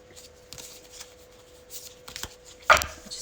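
A deck of tarot cards is shuffled up close: soft riffles and brisk card slaps ending in a sharp snap, with a voice speaking faintly at times.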